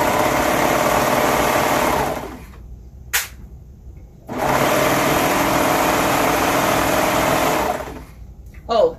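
A sewing machine runs loud and close, sewing a 3/8-inch seam allowance in two long steady bursts separated by a brief pause with light handling clicks.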